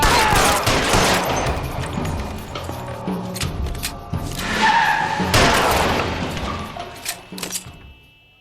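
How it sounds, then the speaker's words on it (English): Gunfire in the PS4 game L.A. Noire, a loud, dense barrage of shots and impacts mixed with screeching car skids and crashes, continuing for several seconds before dropping off at the end. "Shots fired."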